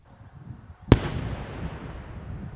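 A buried mine or a pit of collected explosive finds detonates during demining of a village, giving a single sharp, loud blast that rolls into a long rumbling decay over low outdoor background noise.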